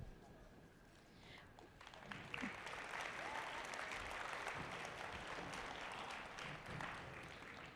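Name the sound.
audience applause for the sponsors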